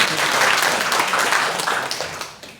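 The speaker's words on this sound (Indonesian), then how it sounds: "Tepuk tangan bagi Yesus." A church congregation at a Sunday service claps together in a loud, dense burst of applause that gradually fades toward the end.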